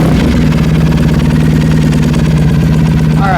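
A Triumph Thruxton motorcycle engine idles loudly and steadily up close, a low, even throb with constant vibration and no break.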